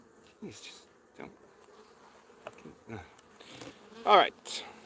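Honeybees at an opened beehive buzz in short, close passes as individual insects fly near, rising and falling over a quiet background.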